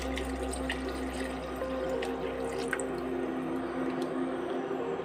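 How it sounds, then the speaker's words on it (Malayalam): Thin second coconut milk pours into a mutton stew over a lowered flame, giving a steady liquid squish and wash with faint drips, close and continuous, with no talking. "നമുക്കിതിലേക്ക് രണ്ടാം പാൽ ഒഴിക്കാവേ"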